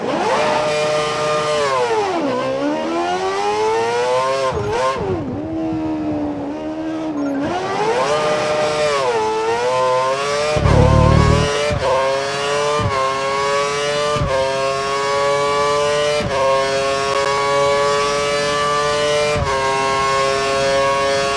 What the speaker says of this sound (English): accelerate towards the hairpin corner, turn in at the correct point, hit the apex, and accelerate past 185 miles per hour out of the corner